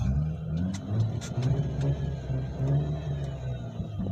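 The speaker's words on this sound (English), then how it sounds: "Rev it up." A Mazda RX-8 engine revs steadily with a low mid-pitched rumble, loud and close, holding a continuous drone throughout.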